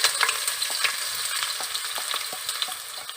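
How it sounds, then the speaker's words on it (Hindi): Onions fry in hot oil with a bright, hissing crackle and light popping. Soft stirring clicks come now and then, close by and without speech. "हमारी प्याज फ्राई होने वाली है।"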